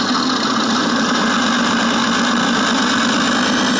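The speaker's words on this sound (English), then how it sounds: "what I can do is rev it up to four and come down to," A 5-inch narrow-gauge model maintenance locomotive's diesel engine sound unit, brushless-driven, held at a high throttle notch, giving a loud, steady, buzzing engine drone that runs unbroken with no speech.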